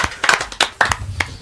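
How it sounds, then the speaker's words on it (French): Audience clapping for a singer at a music promotion event: a short burst of scattered hand claps, close and fairly loud, with no voices. "Et je vous demande de l'applaudir très très fort"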